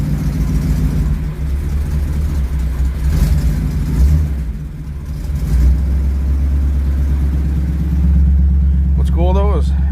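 A 1957 Chevy 210 engine runs steadily after a cold start, a low continuous rumble held at a gentle idle without hard revving, loud and close throughout.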